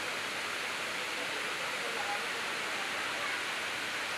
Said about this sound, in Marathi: प्रसिद्ध वाल्हेरी धबधबा पूर्ण क्षमतेने वाहू लागलाय